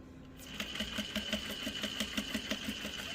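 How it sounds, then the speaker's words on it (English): A sewing machine stitches a pleated doll skirt with a steady, fast, even rhythm of needle clicks and a whirring motor, close and clear after a brief quiet start. "I'm going to end my stitching."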